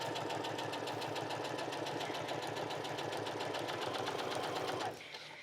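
A sewing machine stitches a faux suede corset seam in a steady, fast, close mechanical whir that runs continuously and then stops abruptly near the end.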